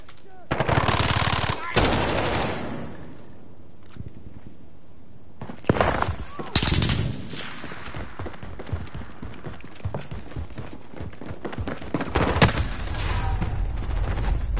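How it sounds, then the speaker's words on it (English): Rapid automatic bursts from a sentry gun in a video game rattle loudly in several long volleys separated by short pauses, with game voices and effects mixed in. "Friendly sentry gun on."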